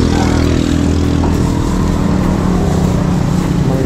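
A motorized tricycle's engine drones loud and close with a steady buzzing rumble, revving slightly at points, while faint voices sit underneath.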